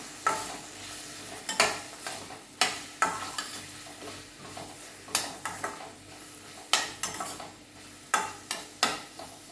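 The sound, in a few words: sautéing capsicum, peas and corn in a pan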